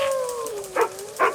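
Japanese macaques howl in a zoo video game, a drawn-out falling wail followed by two short, sharp yelps, close and fairly loud.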